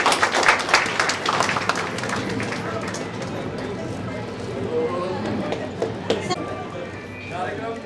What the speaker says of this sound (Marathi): सगळ्यांनी जोरदार टाळ्या वाजवा.